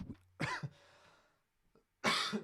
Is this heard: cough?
yes